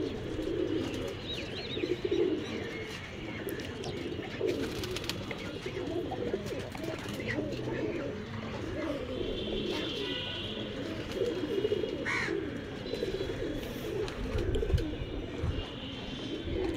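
A flock of Rajshahi Giribaz pigeons coos continuously on a rooftop loft, with soft overlapping rolling calls close by and a few faint chirps mixed in.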